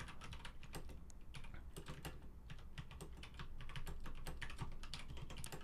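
Fast typing on a computer keyboard during typing practice: a quick, uneven run of close key clicks and taps with brief pauses, alone and fairly quiet.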